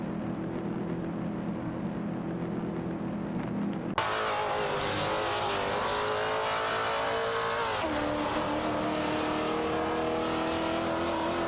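Race cars in an AI-driven racing video game roar continuously, a dense layered engine drone that shifts abruptly as the camera cuts, with pitch sweeps from multiple cars closing on one another, no voices.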